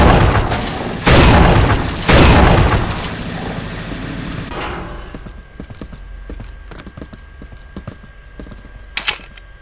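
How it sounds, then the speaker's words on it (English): A grenade launcher in the video game Unreal 2 firing fragmentation grenades: two heavy booming blasts close together, followed by rattling mechanical clicks, thuds and a fainter reload-like clatter. "No weapon is more versatile and dangerous than the grenade launcher."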